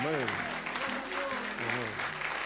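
Church congregation applauding at a Friday evening service, a steady wash of clapping that runs the whole time beneath a voice speaking loudly over it.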